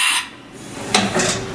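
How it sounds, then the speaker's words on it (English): A Haas VF-3 vertical milling center performs a tool change, giving short mechanical whirs and clunks with a brief sharp hiss, heard close and alone over a steady machine hum. "what we're going to do is tool change"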